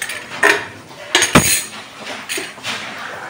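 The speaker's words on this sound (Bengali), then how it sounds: "ভাতটা বসিয়ে দিলাম" A pot of rice is set down on a stove, giving a few sharp metallic clanks and clinks spread over a few seconds against a quiet kitchen background.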